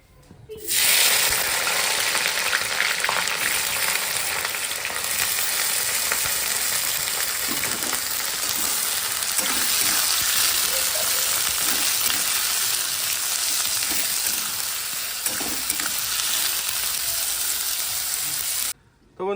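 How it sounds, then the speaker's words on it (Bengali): Capsicum, beans and carrots fry in a pan for fried rice, giving a steady, close, continuous sizzle with light stirring scrapes that runs unbroken for nearly the whole stretch. "ক্যাপসিকাম বিনস গাজর এগুলো আমি ভেজে দিচ্ছি ওদের"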